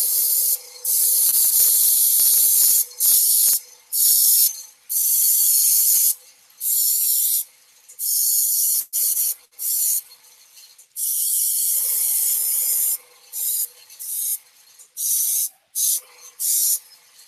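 A spray can lays down gray primer on a Batman accessory build in a series of short and long hissing bursts with brief pauses between them. A few soft clicks of the nozzle are heard, and nobody talks.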